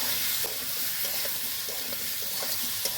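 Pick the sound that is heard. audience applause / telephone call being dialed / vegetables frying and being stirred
vegetables frying and being stirred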